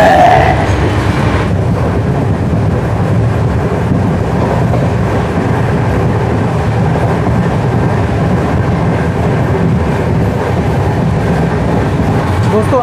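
Steady, loud rumble and rattle inside the sleeper class of the Lalgarh–Prayagraj superfast express as it runs between Bikaner and Jaipur in India, a continuous close roar of wheels and carriage with no break.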